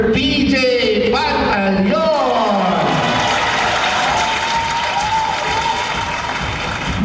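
An audience applauds new members being introduced at a community gathering, a dense clapping wash that rises as a voice fades early on, then carries on steadily.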